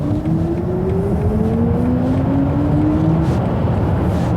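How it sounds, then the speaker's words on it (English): Synthetic engine sound composed by Hans Zimmer plays inside a BMW iX 50 electric SUV in sport mode, a steady rising hum with slowly climbing tonal sweeps over constant road and cabin rumble, no talking. "artificial engine sounds composed by Mr. Hans Zimmer"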